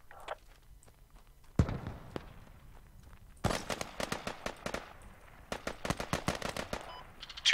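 Bursts of machine gun fire in the military shooter game Squad, a few distant shots followed by rapid, loud automatic volleys in quick succession, with no voices over them.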